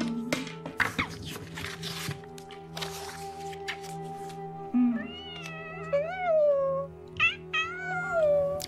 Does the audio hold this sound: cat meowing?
yes